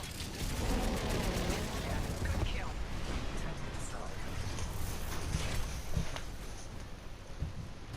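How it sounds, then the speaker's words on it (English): A Titan unloading a barrage of missiles in Titanfall 2, a rapid string of punchy launches and blasts rolling on for several seconds, with a voice talking over the gunfire. "it shoots like a barrage of missiles, like that, and it does quite a bit of damage"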